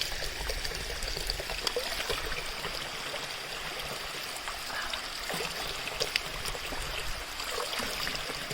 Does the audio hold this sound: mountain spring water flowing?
yes